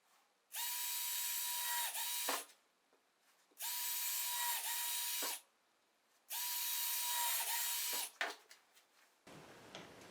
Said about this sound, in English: where I can drill my holes